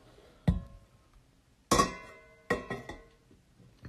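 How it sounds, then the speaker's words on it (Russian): A phone is set down on its charger with three sharp clinks and knocks against a hard surface, each briefly ringing out, close and fairly loud, with no voices. "ставлю телефон на зарядку"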